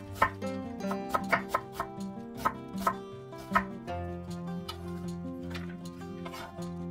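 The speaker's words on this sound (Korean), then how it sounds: "양파 반개 채 썰어주세요." A knife slices half an onion into thin strips on a cutting board: a quick run of crisp, close taps, then softer cuts, over steady background music.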